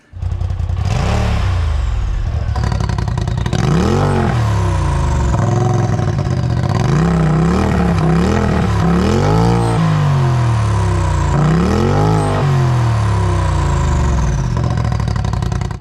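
A turbocharged off-road UTV engine roars loud and close through a full 3-inch side-exit exhaust with its valve open, revving up and down in repeated swells over about sixteen seconds.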